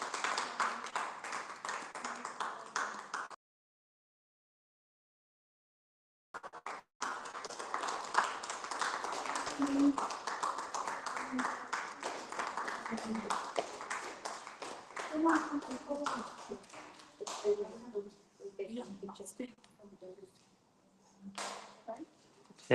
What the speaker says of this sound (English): Can we get the big round of applause for the kids who performed today?